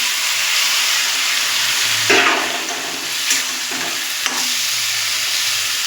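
Broken wheat daliya is tipped into a hot pan holding scrambled egg, giving a soft pour and a rustle, then a steady sizzle and scraping stirs, loud and close with no talk.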